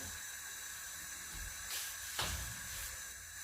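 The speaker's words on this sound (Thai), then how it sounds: "ใส่หอมลงไปผัดนะคะ" Onions dropped into a pan of hot oil, about two tablespoons of olive or ordinary oil, for a pork ragu pasta sauce, give brief hissing sizzle bursts over a steady low hiss, fairly quiet and close.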